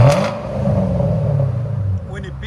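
A supercharged 5.4L V8 in a 2009 Ford Mustang Shelby GT500 with a Black Widow exhaust revs up loudly and holds a steady, rumbling roar close by, after a brief voice at the start.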